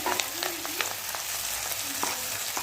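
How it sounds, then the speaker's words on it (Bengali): Curry leaves crackle in hot ghee and oil, with a continuous close sizzle dotted by sharp pops and light stirring sounds, no voices. "তেল ছেড়ে ছেড়ে দারুণ একটা ঘি আর কারিয়া পাতার গন্ধ ছাড়ছে।"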